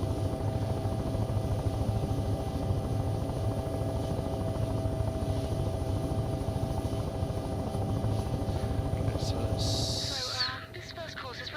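A helicopter's engine and rotor drone on steadily in the Take on Helicopters video game, a loud continuous whine and buzz with a brief higher burst near the end.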